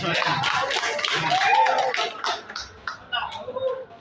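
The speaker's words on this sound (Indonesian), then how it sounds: "Yang tepuk tangan dulu buat Pak Awal." Neighbors clap for Pak Awal at an RW 11 community meeting in Pademangan Barat, Jakarta: a brief, moderately loud burst of scattered hand claps that thins out toward the end, with voices talking over it.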